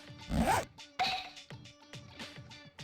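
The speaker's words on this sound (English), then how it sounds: "Teddy suddenly undoes his zipper." A zipper is undone in the fighting video game Persona 4 Arena Ultimax, a loud rasping pull followed by a run of shorter ratcheting zips in an uneven rhythm.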